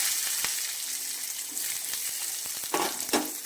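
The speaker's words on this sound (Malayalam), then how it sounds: "ഇത്രയും ചെറിയ ഉള്ളി അരിഞ്ഞത് നമുക്ക് ഇതിനകത്തോട്ട് ഇട്ട് കൊടുക്കാം" Chopped shallots fry in hot oil with mustard seeds for a Kerala pumpkin curry. Steady close sizzling runs throughout, broken by a few sharp spatters and utensil scrapes near the end. Nobody speaks.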